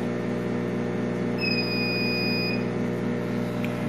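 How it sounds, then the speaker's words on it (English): A laser cutter with problems gives one sustained, high electronic beep lasting just over a second, set against a steady low machine hum that runs throughout. "Beep."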